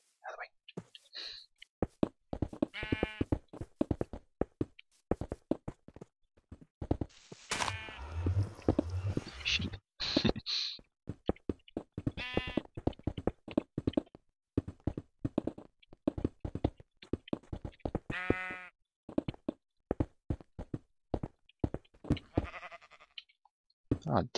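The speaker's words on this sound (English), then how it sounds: "Get out of the way, sheep!" Sheep in a video game bleat repeatedly throughout, several clear calls rising above a busy mix of clicks, knocks and game sounds, with a voice talking over much of it.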